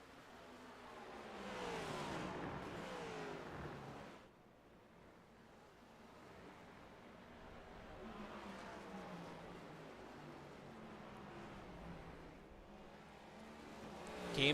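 Stock cars run flat out in an ARCS Midwest Barbeque A2 Cup Series race, a continuous engine drone that swells and fades as the pack passes, loud at first, dipping briefly, then steady to the end.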